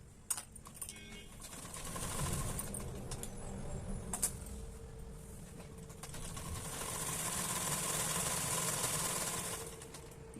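Sewing machine stitching a petticoat hem, running in steady mechanical bursts with short pauses between, close and fairly loud, with no voices.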